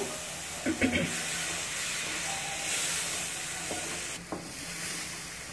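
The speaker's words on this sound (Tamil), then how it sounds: "இப்போ அந்த நெய்யில் வாழைப்பழ கலவையை வதக்கிக்கிட்டு இருக்கோம்" Mashed banana mixture sautés in ghee for a three-ingredient banana halwa, giving a steady soft sizzle and hiss with a few louder stirring scrapes near the start and again later.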